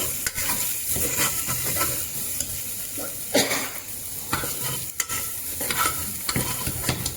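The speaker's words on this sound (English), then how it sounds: "I am frying the masala for 1 minute." Masala spices for Parsi mutton kheema patties sizzle steadily in a pan while a spoon scrapes and stirs through them in repeated close strokes.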